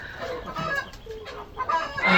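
Hens clucking close by in a backyard chicken coop, a run of short repeated clucks growing louder toward the end, with no talking.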